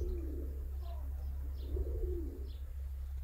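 Pigeons cooing softly over a low steady background rumble, a few short coos and faint chirps across a few seconds, with a hint of wing flapping, fairly distant.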